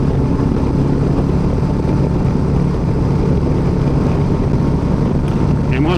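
A Royal Enfield motorcycle cruises steadily with a Kaoko cruise control engaged, its engine a continuous low drone blended with heavy wind rush, loud and unbroken throughout.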